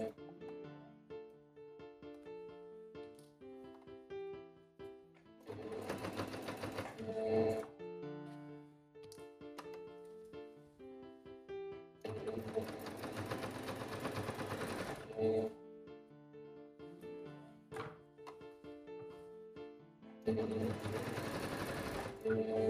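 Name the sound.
sewing machine stitching fabric for shorts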